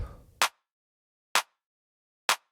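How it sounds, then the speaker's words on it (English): Three sharp, isolated claps from a house drum pattern land at a steady interval, each dry and snappy with slight distortion, silence in between, after a short noisy lead-in. "It's a simple house pattern that consists out of a clap."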